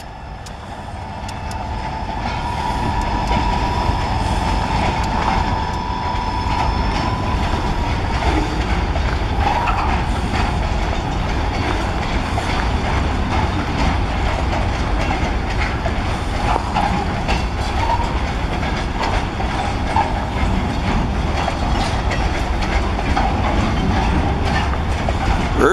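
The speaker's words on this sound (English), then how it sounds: "Catch Escanaba Lake Superior Railroad 502 heading south." Escanaba & Lake Superior Railroad 502, a freight train heading south early in the morning through remote rural country, rumbles past close by in a loud continuous roar with rattling wheels and clatter for over twenty seconds.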